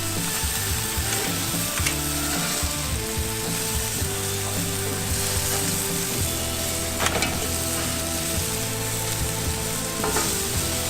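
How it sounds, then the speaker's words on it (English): Whiting fillets sizzle on a hot grill in a steady, crackling fry with fine pops and a few sharp clicks of handling, loud and up close, with no voices. "We'll chop them up, throw them onto the grill after we've made sure we turn these whiting fillets over"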